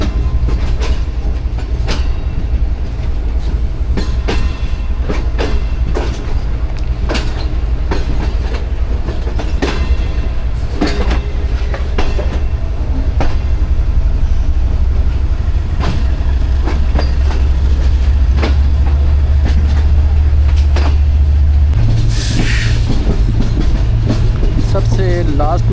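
Pakistan Business Express passenger train running on the rails between Karachi and Lahore, loud continuous rumble with steady clickety-clack of wheels over rail joints, heard from inside the carriage, and a brief squeal near the end.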